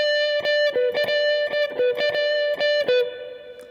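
Distorted electric guitar playing a solo lick: a run of sharply picked, repeated notes with short gaps and a final held note that fades, loud and alone with no talking.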